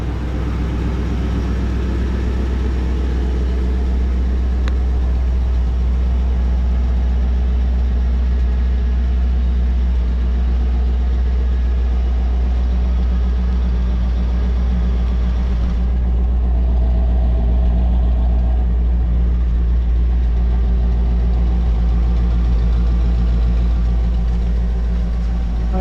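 A 1957 Chevrolet Bel Air engine idles steadily with a newly welded stock-style exhaust, a loud, continuous low rumble that stays close and even for the whole stretch, with no talk over it.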